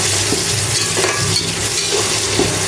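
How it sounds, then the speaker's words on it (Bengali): Onions and chillies fry for noodles in a pan, giving a loud, steady sizzle close up, with a few scraping stirs of a utensil against the metal at irregular moments. "এদিকে যে নুডলসের জন্য পেঁয়াজ মরিচ ভাজে নিতেছি"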